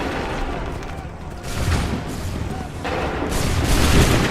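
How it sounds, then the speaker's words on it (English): Massed musket volleys crack out on command in Assassin's Creed III, heavy bursts of gunfire rolling in waves with loud surges of noise, mixed with shouting voices. "Make ready! Fire now!"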